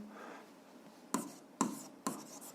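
A pen or chalk writing an answer onto a drawing during a seventh-grade algebra lesson, three sharp tapping strokes after a quiet stretch, close and clear with no talk.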